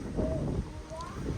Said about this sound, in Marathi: जोरदार वारा सुटलेला आहे